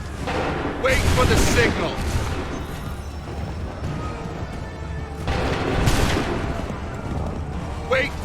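Musket volley fire in the Assassin's Creed 3 remaster, loud massed bursts around one and six seconds over a continuous battle din, with shouted commands heard in the clip.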